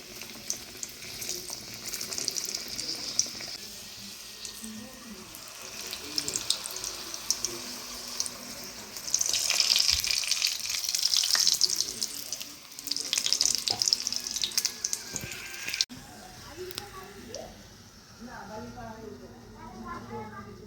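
Roti katori cups fry in hot oil in a wok, with bursts of bubbling sizzle that come and go over several seconds while a person talks throughout.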